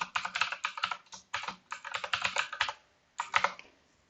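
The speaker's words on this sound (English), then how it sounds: "So let me type my username." A GitHub username is typed on a computer keyboard in quick, close bursts of crisp keystrokes, with brief pauses between runs and one longer gap before a final flurry.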